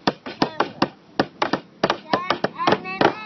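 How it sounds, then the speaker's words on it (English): A child hammers nails into wood while building a treehouse, a series of sharp, close hammer blows at an uneven rhythm, some quick doubles, with brief voice sounds in between. "I'm hammering this in."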